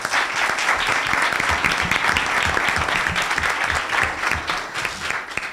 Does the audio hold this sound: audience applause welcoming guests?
yes